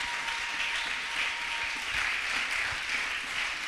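A church congregation applauds steadily, with dense, even clapping throughout and no talk over it.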